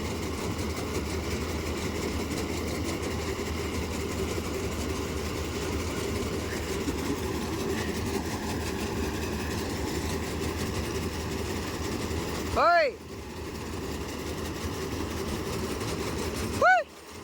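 A John Deere 5405 4x4 tractor pulling a maize harvester runs with a steady low engine drone throughout, with two brief sharp squeaks near the end.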